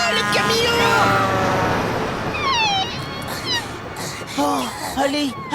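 A frightened little cat meows in a rapid series of rising and falling cries over a steady rumble of road noise, with excited voices shouting over it.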